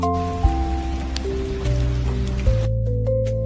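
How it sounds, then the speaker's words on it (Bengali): Steady rain patters on a surface throughout, mixed beneath a bright, sustained musical melody with a few soft thumps. "আষাঢ় মাসে"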